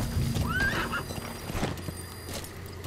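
A horse in Metal Gear Solid V: The Phantom Pain gives a rising whinny early on, with clip-clopping hooves continuing underneath over a steady game background.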